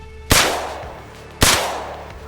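Two loud, sharp gunshots about a second apart, each with a short booming tail, from the video game Arma Reforger; no talking.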